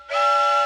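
A person imitates a train whistle with their voice, giving one short, bright, steady whistle-like tone that is clear and close.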